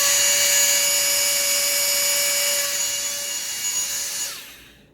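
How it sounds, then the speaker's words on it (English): A Radical Racers toy car's built-in vacuum fan switched to wall mode whirs with a loud, steady high-pitched motor whine that holds for about four seconds before winding down and cutting off. "That's a really powerful vacuum"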